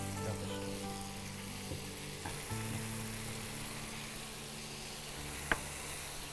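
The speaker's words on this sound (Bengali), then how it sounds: "এবারে মশলাটা ভালো করে কষে নেব কষিয়ে নিচ্ছ" Ground spice masala cooks in a pan with a splash of water for a paste of tender coconut flesh and chhana koftas, giving a steady, even sizzle with one short sharp knock near the end and no talking.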